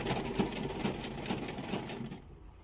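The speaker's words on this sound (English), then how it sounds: "So that's how I'll keep sewing it on the straight line," Sewing machine stitching an invisible zipper in a straight line, a quiet, fast, even mechanical whirr with light rhythmic ticking that cuts off near the end.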